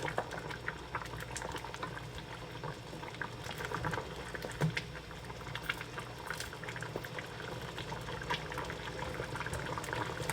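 Okra soup with home-smoked fish simmering in a pot, a quiet steady bubbling with soft liquid sloshing as it is gently stirred, no voices.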